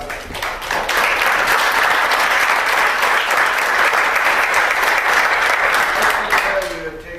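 A room of people at a candidate forum applauds the candidates, dense continuous clapping that swells in quickly, holds strong and fairly near, then tapers at the end.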